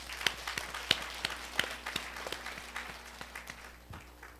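Church congregation clapping after a sermon exclamation, a light scattering of individual claps with sharp isolated hits over a quiet hum, thinning out toward the end.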